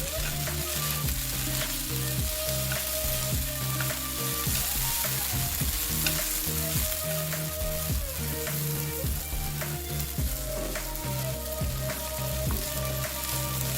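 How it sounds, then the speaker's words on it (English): Chicken and noodles are stir-fried in a wok, with a dense, continuous sizzle and crackle broken by scraping and tossing of the spatula, loud and close, with no talking. "It makes the stir frying much easier as well."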